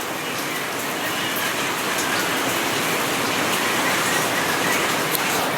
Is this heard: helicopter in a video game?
no